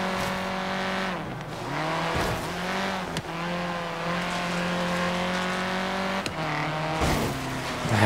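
A racing car engine roars steadily in Forza Horizon 3 during an Evo versus Impreza race, loud and close, with several brief dips where gears shift or the throttle lifts before it climbs again.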